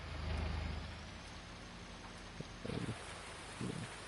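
Steady rain hisses in the Farming Simulator 19 game on PS4, a constant wash of noise with a few faint thumps and brief mechanical clunks over it.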